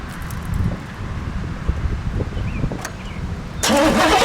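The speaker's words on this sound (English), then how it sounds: "Well, let's fire it up, shall we?" A 1986 Chevrolet Camaro Z28 IROC cranks and fires near the end after a stretch of wind and rustling outdoors, its engine catching abruptly and holding a loud, full roar.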